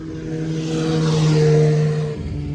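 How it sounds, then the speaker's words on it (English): A vehicle engine drones steadily nearby on a roadside, swelling as it passes and then fading slightly, with a low rumbling hum throughout, as motorcycles and cars go by. "there might be some noise from the motorcycles and cars coming by"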